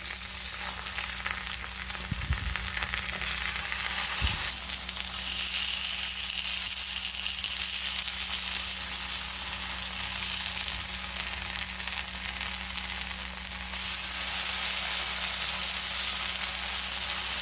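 Fish fillets fry in a pan of hot oil, a continuous even sizzle and hiss lasting the whole stretch, with a couple of low thumps early on as a piece is turned, no voices over it.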